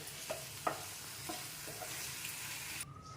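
Spoon stirring tamarind-leaf chana dal with coriander in a pan, a few scraping knocks over a steady low sizzle, close and clear with no talk.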